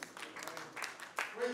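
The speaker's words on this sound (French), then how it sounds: "Les anciens Lions ont accueilli les nouveaux du Lions Club Bamako Solidarité par des applaudissements." Old Lions Club members applaud the new members of Lions Club Bamako Solidarité at a welcoming ceremony, a moderate, fairly distant patter of clapping that comes in uneven swells.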